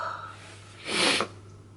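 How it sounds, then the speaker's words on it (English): A single sharp sneeze bursts out after a quiet moment, loud and breathy, then trails off into silence with a steady low hum underneath. "I'm going to sneeze again"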